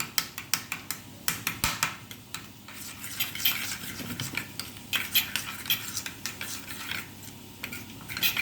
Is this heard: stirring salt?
yes